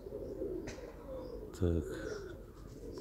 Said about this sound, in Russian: Ну, а те наверху голуби.